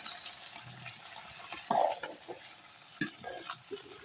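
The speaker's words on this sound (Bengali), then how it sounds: "এবার খুব ধীরে ধীরে নাড়াচাড়া করে দেবো।" A village-style dried fish curry is stirred slowly in a pan, with soft scraping strokes and a couple of sharper spatula knocks over a quiet, wet simmering sizzle.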